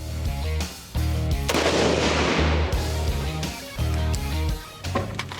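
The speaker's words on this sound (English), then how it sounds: "We're going to start off with Bradley's gun" A homemade semi-automatic bolt gun from a build-box upgrade fires outdoors, several loud close cracks with booming low echo, the first pair in quick succession, then more shots spaced a second or so apart.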